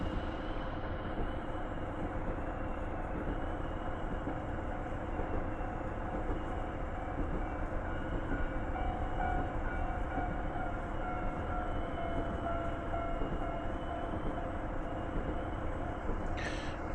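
A Kiha 40 diesel railcar passes on a spring day, a steady, far-off engine drone and rolling rumble that holds evenly throughout, fairly faint.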